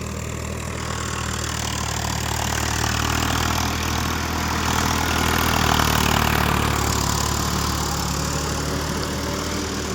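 Swaraj 744 XT 4WD tractor puddling a muddy field, its diesel engine droning steadily and loudly for the whole stretch with no talking.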